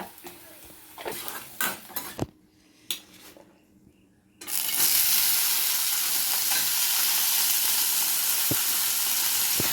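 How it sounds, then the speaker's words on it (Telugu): Dried red chilies, coriander seeds and cumin fry in hot oil in a pan, a steady close sizzle rising sharply after a few scattered clinks and stirring scrapes, then holding loud and continuous. "ఆయిల్ పోసుకుంటున్నా ఎండుమిరపకాయలు ధనియాలు జీలకర్ర"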